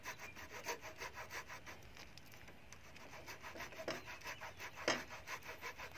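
A small hand saw cuts through wood in a farm garden, making a steady run of brisk back-and-forth rasping strokes. The strokes are close and fairly even in rhythm, with a couple of harder pulls, and no voices are heard.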